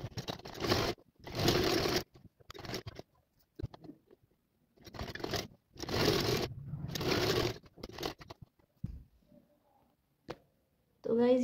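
A sewing machine stitches the side seams of a little girl's skirt in two main runs of whirring, punctuated by short bursts and quiet pauses.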